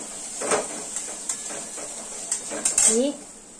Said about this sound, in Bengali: তারপরে দিয়ে দেবো একটু হলুদ, এটাকে নেড়ে নিই